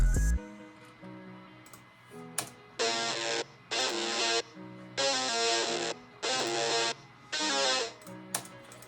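A Headwinds Bake loop from the Raw Takes kit, used in a modern Detroit beat, plays alone as a chopped, repeating chord stab over a low sustained tone, with about six bright bursts landing roughly once a second.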